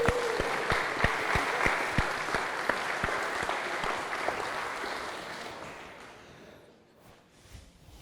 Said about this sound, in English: She needs a clap herself